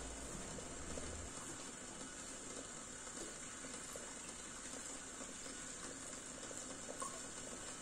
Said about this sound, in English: Okay, some more water.